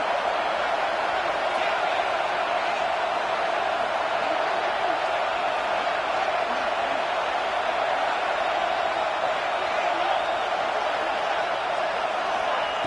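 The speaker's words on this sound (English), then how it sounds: "here comes the noise. This crowd is trying to inspire this defense to make a big red zone stop" Stadium crowd noise at a football game as the home defense faces a red zone stop: a dense, steady roar filling the whole stretch, with commentary voices mixed in.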